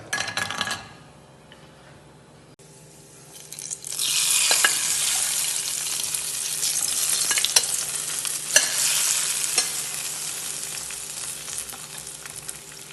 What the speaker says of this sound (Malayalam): കാഷ്നട്ട് ഒന്ന് മൊരിച്ച് ഇതിലിട്ട് ചേർത്ത് കൊടുക്കാം